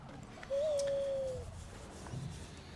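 A pet owl in the prehistoric action game Far Cry Primal gives a single clear, steady hoot lasting about a second over quiet outdoor ambience.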